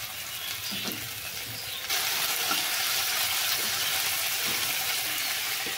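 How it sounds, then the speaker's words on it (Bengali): Pieces of fish frying in hot oil in a wok, heard as a continuous close crackling sizzle that jumps louder partway through and then holds steady, with faint clinks and no talking. "মায়া মাছটা এই যে ভাজছি।"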